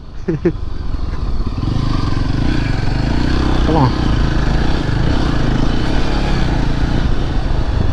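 Continuous engine drone and road noise from a vehicle climbing a forest mountain road toward Megamalai in the Western Ghats, steady and close, with a few brief chirps and clatters over it.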